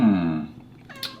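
A house cat gives one short, clear meow at close range, followed by a faint rustle and small clink indoors.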